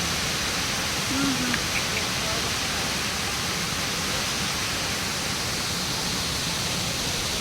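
Jhari Falls, a hidden waterfall in dense forest near Chikmagalur coffee estates, drops 80 feet onto rocks, giving a steady, loud, broadband roar that fills the whole scene without change.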